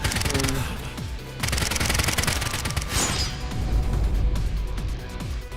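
Rapid automatic gunfire from a shootout in AI: The Somnium Files – Nirvana Initiative, with dense, continuous bursts and crashing impacts filling the whole stretch, loud and without a break.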